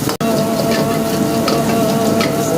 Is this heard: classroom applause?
no